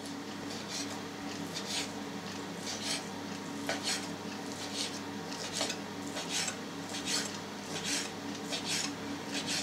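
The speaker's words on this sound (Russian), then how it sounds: "теперь нам надо мяско нарезать на маленькие-маленькие кусочки, квадратики" A knife chops cooked meat patties into small cubes on a board, a close series of regular crisp strokes about twice a second over a faint background hum.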